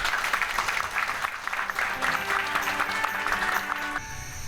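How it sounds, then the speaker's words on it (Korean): An audience at a youth employment academy event in Seoul claps warmly to welcome a speaker, a dense steady patter of many hands that carries on for several seconds before tapering. "여러분 따뜻한 박수로 맞아주십시오."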